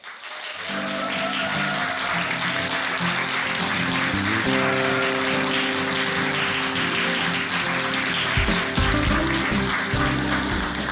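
Audience applause welcoming a professor onto the stage at a Gachon University lecture, a steady broad wash of clapping lasting throughout over sustained music tones underneath.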